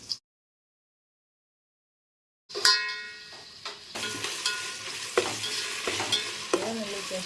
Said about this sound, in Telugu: పేస్ట్ వేయించుకోవాలి